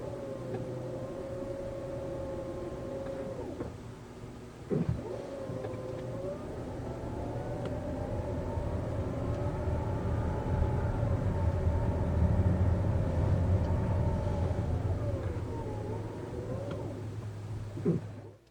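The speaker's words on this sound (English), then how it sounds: "it is the motor that you're hearing as it changes pitch whenever the transmission shifts from first to second" Electric motor whine inside the cabin of a 2025 Mazda CX-70 PHEV, a steady tonal hum that drops and rises in pitch as the transmission shifts from first to second, with faint road noise beneath.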